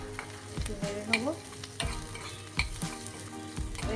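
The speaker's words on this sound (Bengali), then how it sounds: "একটু নেড়ে নেবো।" Chopped garlic and oregano sizzling in a pan while being stirred, a steady close frying hiss with repeated scraping strokes and light clinks of the spatula throughout.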